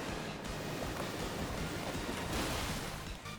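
Muddy Water move effect from Pokémon Champions, a steady rushing wash of water-like noise that swells slightly near the end and continues without a break.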